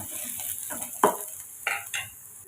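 Onions sautéing with small dried red chillies in a pan, sizzling and frying, with a few sharp stirring scrapes of a spoon against the metal, close and moderately loud.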